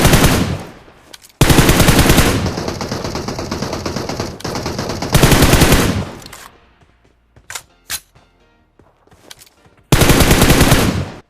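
Rapid automatic fire from an M416 rifle in a battle royale video game comes in several loud, sustained bursts, with a few single sharp shots and quieter gaps between them.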